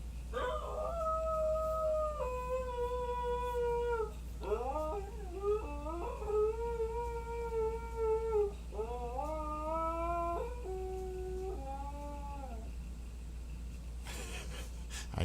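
A dog howls in long, wavering tones, several drawn-out howls with rising yips and whimpering breaks, close and fairly loud over a steady low hum, ending in a brief burst of noise.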